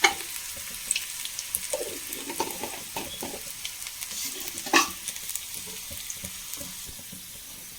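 Tempering spices sizzle and crackle in hot oil in a pan with scattered sharp pops and a few stirring scrapes, fairly close, with no talking.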